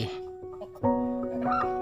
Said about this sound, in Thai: อันนี้ไก่